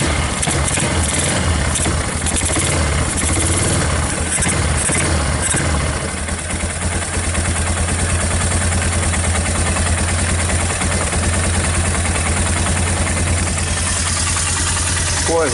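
Bear Tracker 250 ATV engine with a PZ30 carburetor conversion running with the choke on, a loud, steady, close-up idle that continues throughout, with a faint voice in the background.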